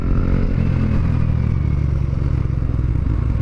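Riding along on a motorcycle: a loud, continuous low engine rumble with wind buffeting and road clatter, close and unbroken.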